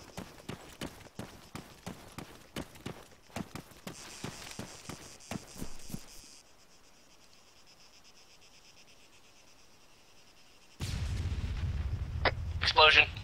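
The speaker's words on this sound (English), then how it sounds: "Explosion." An explosion in the military shooter game ArmA 3 follows a run of sharp, rapid gunshots and a quieter lull, arriving as a loud, deep, rumbling blast that lingers near the end.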